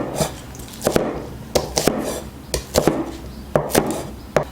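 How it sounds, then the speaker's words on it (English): A knife chops scallions on a board: a series of sharp, close taps in quick bursts of two or three strokes, with short pauses between groups, no talk. "Scallion, cut it into 3 to 4 cm length."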